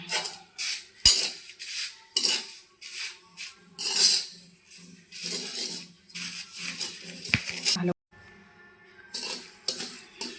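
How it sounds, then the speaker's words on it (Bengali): Dry red chillies fry in a pan while a metal spoon stirs them, giving close clinks and scrapes in irregular bursts with short pauses, no talking. "এখন ভেজে নিচ্ছি শুকনো লঙ্কা"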